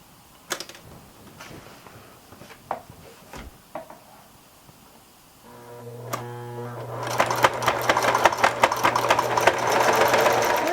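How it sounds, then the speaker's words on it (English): A sewing machine zigzag-stitches bias tape onto sun shade fabric, starting after several scattered handling clicks and knocks, then running steadily and close with a dense mechanical clatter, no voices. "I'm going to sew a nice zigzag stitch onto this tape to secure it to the fabric"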